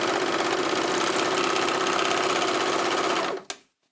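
An Elna 864 overlocker runs a test stitch on fabric, a steady fast mechanical whir close up that stops abruptly near the end.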